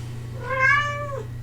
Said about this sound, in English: We have a baby cat now.